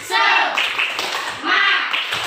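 Children in a classroom do a rhythmic 'tepuk semangat' clap, two bursts of patterned clapping mixed with chanting voices, close and lively.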